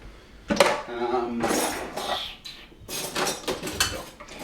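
Metal cutlery rattles and clinks in a kitchen while a spoon is picked out, with bursts of jangling separated by short pauses, close and fairly loud.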